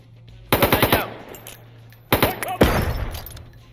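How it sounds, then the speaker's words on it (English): Machine gun fire in the Door Kickers 2 video game, two sharp bursts of rapid shots separated by a pause, followed by a louder crashing impact, close and loud with no talk. "Got the old machine gun shooting directly at the"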